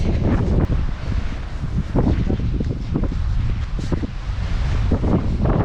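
Strong wind buffets the microphone outdoors during the Ultra Marin 2023 175 km Grand Raid trail race, a loud, continuous low rumble with gusting surges throughout and no voices.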